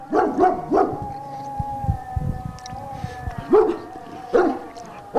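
A voice imitates a dog barking in short bursts of three, spaced a few seconds apart, over low rumbling background noise and a faint sustained tone.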